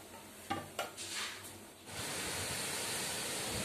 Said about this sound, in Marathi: आणि बाहेर वारा बघा काय सुटलाय. आवाज घ्या बघा. खूप वारा सुटलाय बाहेर.